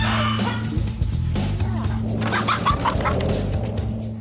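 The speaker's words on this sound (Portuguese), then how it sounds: "Temos 8 galinhas que criamos dentro de nossa piscina." Several backyard hens, eight kept inside a converted swimming pool, cluck and squawk in short irregular bursts close by, over a steady low hum that runs under the whole stretch.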